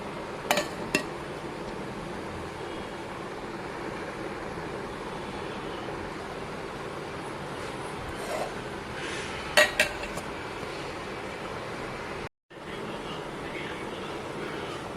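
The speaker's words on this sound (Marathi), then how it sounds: "तेव्हा हा डबा आता आपण झाकून घेऊया" A metal container holding anarsa dough is covered, giving a few light clinks and taps early on and a brighter clatter of the lid near the middle against a quiet, steady background.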